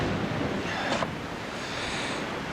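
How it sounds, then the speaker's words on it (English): Strong storm wind gusting and roaring in a steady, loud broadband rush, with a brief sharper gust near the start, no talking. "The wind is just insane right now."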